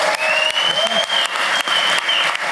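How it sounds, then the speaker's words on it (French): A comedy show audience claps for a contestant making a second stage appearance: dense, loud applause filling the room, with a few sharper individual claps and faint whistles over a steady wash. "On peut l'applaudir."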